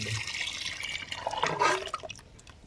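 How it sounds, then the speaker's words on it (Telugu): Water poured into a tamarind mixture for fenugreek-leaf dal soup, a splashing, gurgling pour that swells toward the middle and then tapers off, fairly quiet and heard alone. "ఇంకా కొన్ని వాటర్ పోసుకోనండి మేమైతే పోసుకుంటున్నాం"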